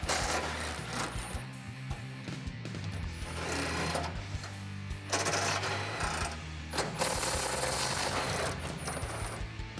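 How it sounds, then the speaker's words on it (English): An impact wrench fitted with a small extension and an 18mm socket backs out bolts on the front bumper of a 2016-2018 Chevrolet Silverado. It gives several loud bursts of rapid, rattling hammering, each lasting a second or two, with short breaks between them. "So we have our impact, a small extension, and an 18mm socket to remove those."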